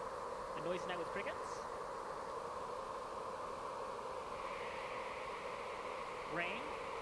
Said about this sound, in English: A noisy night with crickets.